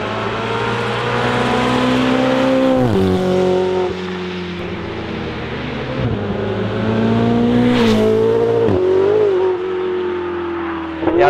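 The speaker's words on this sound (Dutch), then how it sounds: "Gaan wij eens even met die Ferrari op pad." A Ferrari 488 GTB fitted with an Akrapovic exhaust, heard from inside or close by as it drives, its loud engine note rising and falling through several gear changes and revs.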